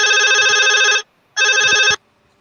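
A telephone rings loudly in two long electronic bursts separated by a short gap, with no talking over it.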